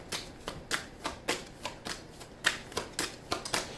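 Tarot deck being shuffled by hand, a quick run of crisp riffling bursts at an even rhythm, close and fairly quiet, with no talking.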